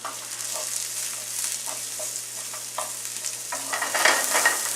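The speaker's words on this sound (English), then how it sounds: "So I'm just going to stir these down." Sautéed vegetables and mushrooms being stirred in a hot pan, giving a steady close-up sizzle with soft scraping strokes that grow a little louder near the end.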